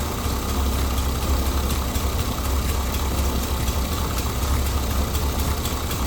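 A 454 engine idles steadily right after being started with the key, the throttle untouched: a close, even, continuous rumble with a constant low drone and no voices.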